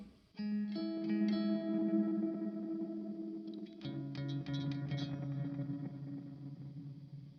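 Sustained guitar notes through a Walrus Audio Fable delay pedal, swelling echoes and rumbling repeats layering into a washy, reverberant background.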